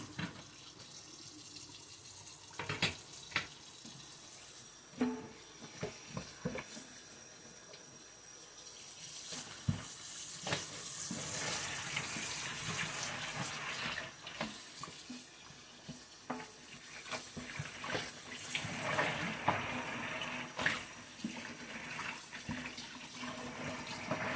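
Cold tap water running into a sink while a tie-dye shirt is rinsed, a steady hissing flow with splashing and sloshing as the fabric is worked, close and continuous with occasional knocks and clatters.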